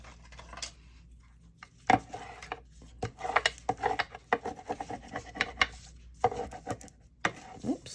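A scraper rubbed over a junk mail envelope being made into a journal cover gives faint, intermittent scraping strokes, with brief sharper scuffs spaced irregularly and no talking.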